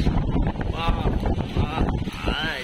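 Strong wind gusts roar steadily across an open-air microphone on a stormy, rainy day, with faint voices and whistling tones rising through the rushing noise.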